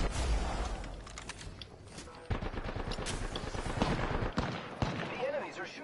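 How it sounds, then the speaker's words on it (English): Enemy gunfire in the video game Apex Legends, rapid bursts of automatic shots with sharp louder cracks, continuous and fairly near, with a voice talking over it. "The enemies are shooting at me."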